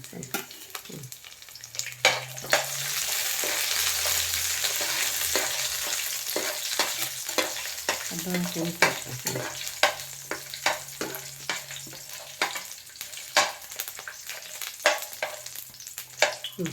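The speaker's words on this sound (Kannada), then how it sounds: "ಬೆಳ್ಳುಳ್ಳಿ ಹಾಕು ಹುರಿ" Garlic fries in a pan on low heat for a Mangalore-style mutton sambar, with a steady close sizzle broken by repeated sharp scrapes and taps of stirring, and no talking.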